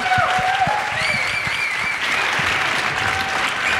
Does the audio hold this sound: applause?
yes